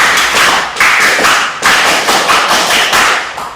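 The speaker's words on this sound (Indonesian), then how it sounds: "Tepuk pramuka, satu kali tepuk pramuka." A junior high class in Indonesia clapping the Pramuka scout clap rhythm together, loud and close: crisp group claps in short repeated patterned bursts with brief gaps between them.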